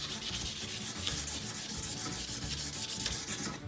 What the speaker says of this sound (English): I'm still on my first piece of sandpaper